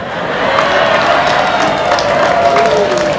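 An audience at a religious lecture in Blora breaks into a dense, sustained round of clapping and crowd noise, steady and fairly loud throughout.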